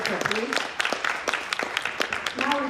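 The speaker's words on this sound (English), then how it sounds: "A big round of applause for our moderator, please." An audience at a literary festival applauds a moderator with scattered, uneven claps, while people keep talking over the clapping, which swells again toward the end.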